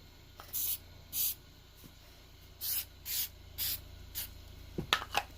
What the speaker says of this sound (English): So I just put a little spray adhesive right there